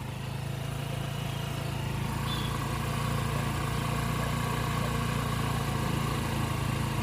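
A Honda Activa scooter engine idles steadily during carburetor screw adjustment, a constant low mechanical hum with no talking.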